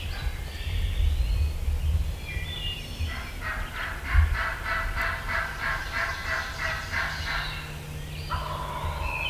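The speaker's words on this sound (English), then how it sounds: "That's why she's yelping." A wild turkey hen yelps in a steady series of rough, repeated notes, fairly close, over a low rumbling background, in West Virginia.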